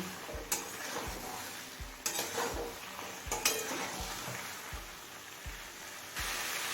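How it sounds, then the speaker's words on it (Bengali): Chicken liver and stomach with potatoes stirred and sautéed over a medium flame, a continuous close sizzle marked by regular spoon knocks against the pan about every second. "মিডিয়াম ফ্লেমে সব কিছু খুব ভালোভাবে কষিয়ে নিয়েছি"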